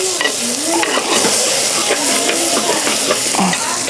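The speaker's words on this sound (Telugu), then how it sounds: "ఐదు నిమిషాలు అయింది అల్లం వేసుకున్నాక మస్తు రోస్టే అయింది ఇలా" Eggplant masala with ginger is stir-fried in a pan, a loud close sizzle under repeated scraping and stirring strokes, with no voices.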